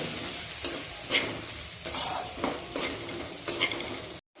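Turmeric, Kashmiri chilli powder, mutton masala and salt stirring in a hot pan, with scraping strokes of a spoon over soft sizzling at an irregular pace and no talking.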